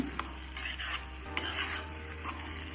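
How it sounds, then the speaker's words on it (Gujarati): Soaked sabudana being stirred and mixed into khichdi in a pan, a soft steady scraping and shuffling with a few sharp clicks of the spoon against the pan, close and fairly quiet, no voices. "આ બધું બરાબર મિક્સ કરી દેવાનું છે"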